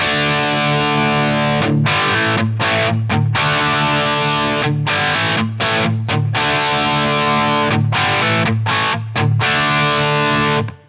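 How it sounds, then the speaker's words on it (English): Electric guitar through a Line 6 Helix retro reel tape effect at 30 inches per second with saturation at zero, strummed chords ringing out with brief gaps, distorted and loud, no voices. "here's what the retro reel sounds like in comparison to the no effects"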